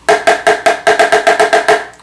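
Ten quick, evenly spaced snare drum hits in a brisk, steady rhythm, loud and close.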